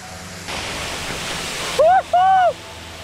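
A broad steady rush of a large waterfall roars in the background at Savlya Ghat, joined near the end by two short sung or called vocal tones.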